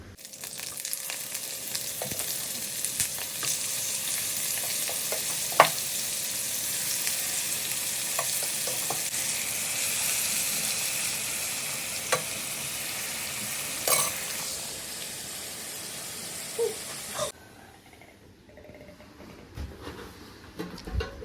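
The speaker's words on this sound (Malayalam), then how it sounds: "പിന്നെ നമുക്കൊന്ന് മസാല തേച്ച് വെച്ചിട്ട് വേഗം പൊരിച്ച് സെറ്റാക്കാം." Masala-coated prawns sizzle and crackle steadily in hot oil, with occasional sharp pops and stirring clinks close by; the frying noise cuts away near the end, leaving a quieter stretch.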